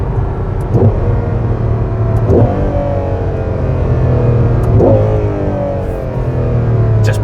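A Ferrari 12Cilindri engine revs through a series of downshifts, with three or four distinct rising blips over a steady, loud engine drone heard from inside the car.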